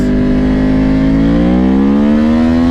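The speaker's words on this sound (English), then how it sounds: "That acceleration is nuts. That wakes the bike up." A Yamaha R1 sport bike fitted with an EK 520 chain and Vortex sprocket accelerates hard. The engine note is loud and close, its pitch rising smoothly and continuously, with no talk over it.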